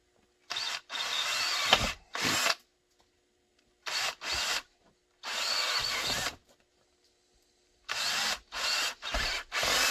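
A power drill bores holes in scrap blocking in a series of loud, close bursts of whirring and grinding, separated by brief silences and ending in several quick pulses.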